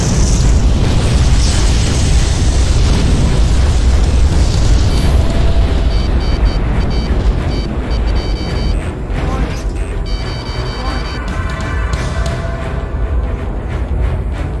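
A missile impact explosion in the jet combat video game Ace Combat 5 sets off a loud, sustained roaring blast with rumbling debris that slowly fades over about fifteen seconds, with radio voices faintly underneath.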